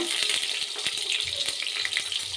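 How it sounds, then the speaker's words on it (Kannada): Chopped onion, mustard seeds and curry leaves fry in hot oil for a village-style lentil curry, making a bright, close, steady sizzle with small pops and a few light utensil taps. "ಈರುಳ್ಳಿ ಫ್ರೈ ಆಗಿದೆ"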